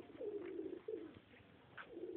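Soft, repeated cooing calls from pigeons, low and throaty, in a few phrases with short pauses, fairly close and without any talking.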